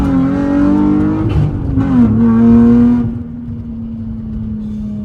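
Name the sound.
Nissan 350Z car driving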